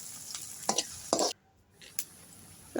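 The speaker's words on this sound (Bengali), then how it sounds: "এখন পেঁয়াজটাকে খুব ভালো করে লাল করে ভেজে নিব" Chopped onions with whole garam masala fry in oil in a pan over a clay stove, giving a steady sizzle broken by several sharp stirring scrapes and a brief quiet gap.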